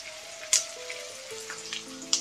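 Curry leaves and red chilies frying in hot oil for pithla, a soft steady sizzle with a couple of sharp crackling pops, close by and without talk.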